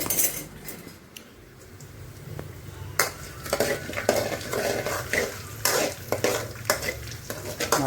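Urad dal, mustard seeds, chana dal, cumin and peanuts sizzle and fry in hot oil as a spoon stirs and scrapes against the pan, with clinking metal over a steady crackle.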